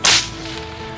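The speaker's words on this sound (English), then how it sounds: "These are signal whips, used to get attention of other people when you're riding." A signal whip, the kind used while riding to get other people's attention, gives one sharp, loud crack at the start, followed by a short ringing tail.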